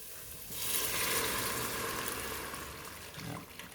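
Vegan ramen ingredients fry gently in a pot, giving a soft, steady sizzle close by that swells and then holds for a few seconds with no talking.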